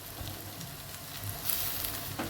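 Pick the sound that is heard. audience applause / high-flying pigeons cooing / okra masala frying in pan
okra masala frying in pan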